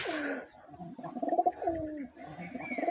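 Pigeons coo in a pigeon house, close by, with several throaty, rolling coos overlapping and repeating in quick succession with short pauses between them.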